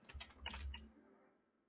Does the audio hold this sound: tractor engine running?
no